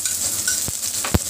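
Garlic and onion frying in oil in a pan give a soft, steady sizzle, broken by a couple of short scraping stirs, quiet and close with no voices.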